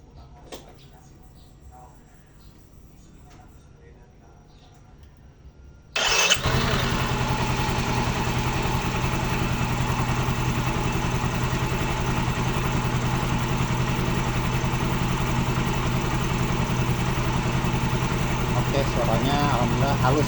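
A 2014 scooter used for ride-hailing work, fresh from an oil change, starts abruptly after a quiet stretch with talk, then idles smoothly and steadily at close range.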